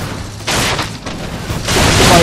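Fireworks go off in the video game Dead Rising 3 as a series of loud, booming bursts, each with a crackling tail, one after another close by.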